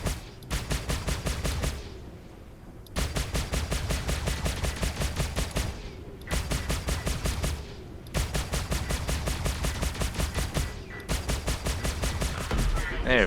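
Small spaceship turrets in Star Citizen fire in rapid, evenly spaced bursts, four long strings of shots separated by short pauses, loud and close.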